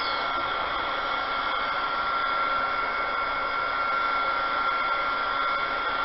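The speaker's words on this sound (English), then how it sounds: "I'm going to use my so-called blow dryer" A blow dryer aimed at poured resin to pop its bubbles, a loud, steady, even whoosh of airflow running without pause, close and alone.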